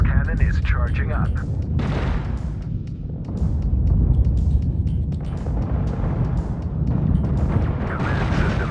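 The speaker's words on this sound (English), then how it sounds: "Pulse cannon is charging up." Battleship pulse cannon firing in the space game Infinite Lagrange, heavy booming blasts and rumbling impacts layered over sci-fi effects, loud and dense, with a synthetic voice announcing over the battle.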